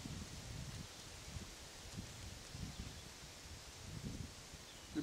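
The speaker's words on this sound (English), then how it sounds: "the only thing that you can hear is the breeze" A gentle breeze moves through the trees around a rustic log cabin at a deer hunting camp, with soft, faint leaf rustling in uneven gusts and no voices.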